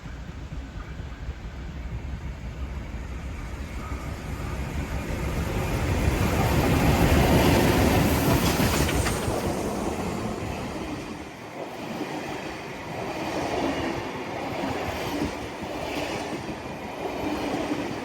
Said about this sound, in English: we see the 59 heading its way back to Chullora, led by 4903 at Carlton